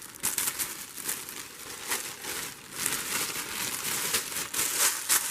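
Wrapping paper being crinkled and torn up close, a dense run of crackling, rustling bursts with no voice.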